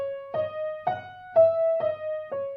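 Piano traces a Chopin Nocturne Op. 32 No. 1 melodic line without rhythm: five soft, evenly spaced notes, each a struck attack with a sustained ringing tone, quiet and close with no talk.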